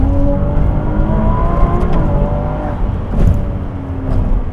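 A Ferrari 296 GTB hybrid accelerating hard, its engine note rising in a loud, deep, sustained roar from inside the car, with a brief surge near the end as the revs climb again.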